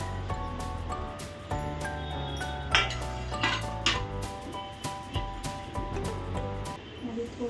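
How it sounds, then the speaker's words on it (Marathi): A spoon works through a mixed vegetable paratha filling in a bowl, making intermittent clinks and scrapes against the dish under sustained background music. "मध्ये थोडं चमच्याने मिक्स करू"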